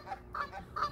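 A goose on a pond honks repeatedly outdoors, with three or four loud nasal calls spaced about a quarter second apart, close to the listener.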